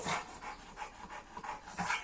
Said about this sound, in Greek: Φωνάζω το σκυλί μου.